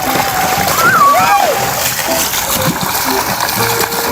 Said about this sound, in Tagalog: Kaya sulitin natin na maligo dito sa swimming pool.